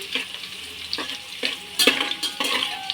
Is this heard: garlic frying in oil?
yes